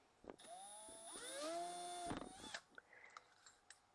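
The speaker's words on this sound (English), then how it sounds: "we're going to drill straight through on both of them." A power drill whines up in pitch as it bites into metal, drilling straight through a Lee Perfect Powder Measure, then cuts off, followed by a few faint clicks and clatters.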